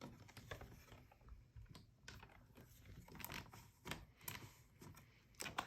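Sizzix Stamp and Spin stamping tool being clicked and its wheel turned while stamping a wreath pattern: a quiet run of sharp plastic clicks and ratcheting mechanical ticks in irregular bursts, close up.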